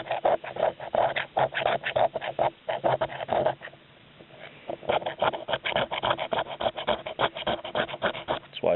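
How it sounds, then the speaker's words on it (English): A magnesium fire-starting stick is scraped with a pocket knife to make shavings for lighting damp wood. Rapid, rasping strokes repeat steadily and close by, with one brief pause in the middle. "You just take this magnesium stick and scrape it down."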